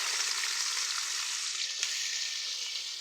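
Bitter gourd, potato, onion and green chilli frying in hot oil, a steady, close, dense sizzle that holds evenly throughout with no voices.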